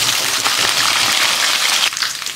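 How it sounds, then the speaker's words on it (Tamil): Mustard seeds, garlic and curry leaves sizzle loudly in hot sesame oil in a pan while a fish curry is cooked, a dense, close, continuous crackling hiss that briefly dips near the end. "எண்ணெய் காஞ்சிடுச்சு. கடுகு போட்டுக்கலாம், பூண்டு போட்டுக்கலாம், கருவேப்பிலை,"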